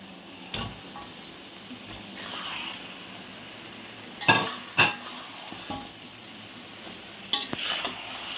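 Pieces of chicken for Malaysian-style honey ayam bawang go into hot oil and fry, with a steady sizzle, stirring scrapes and a few sharp clatters along the way.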